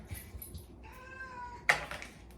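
A pet cat meows for a snack, one short faint call followed by a longer, clearer drawn-out meow, then a brief sharp rustle or clink nearby in a quiet room.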